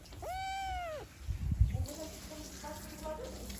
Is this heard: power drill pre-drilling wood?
no